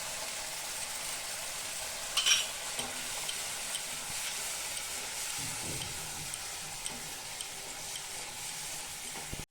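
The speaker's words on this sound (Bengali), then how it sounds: "আধা কাপ মতন টক দই দিয়ে দেবো, ফেটিয়ে নিচ্ছি আগে।" Sour yogurt whisked for kadai paneer makes a quiet, continuous stirring rasp with a soft hiss beneath it, marked by one brief sharp clink early on.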